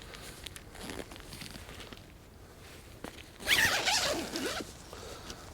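A zipper being drawn shut on an adventure motorcycle tent, one quick close rasping pull after a few seconds of quiet rustling and handling.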